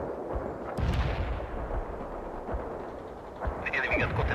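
Incoming artillery fire in the World in Conflict video game, with repeated heavy, rumbling impacts and booms in a loud battle scene.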